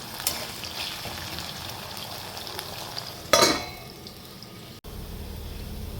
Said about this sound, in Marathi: बटाटे एकदा हलवून घेऊ आपण अजून शिजले नाही आहे